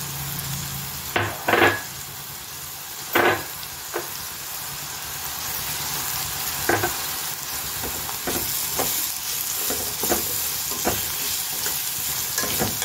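Vegetables sautéing with garam masala and Maggi masala in a pan give a steady, close sizzle, with sharp spoon-scrape stirring bursts near the start and lighter scraping clatter later.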